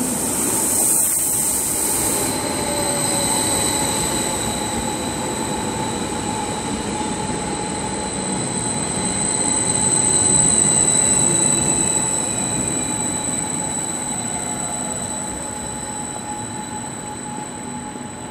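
An ICE high-speed train rolls steadily into a German station with a long low rumble, faint high wheel squeal and a sustained tonal whine over the clatter.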